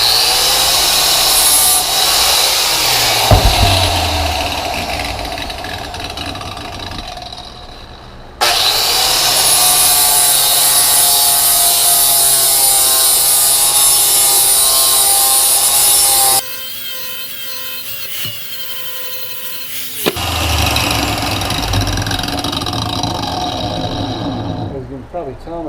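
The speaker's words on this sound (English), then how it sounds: "Just got a angle grinder with a 40 grit paddle disc or flap disc" An angle grinder fitted with a 40 grit flap disc grinds an axe head, a loud, continuous, close rasping whine that shifts pitch and briefly cuts out and restarts.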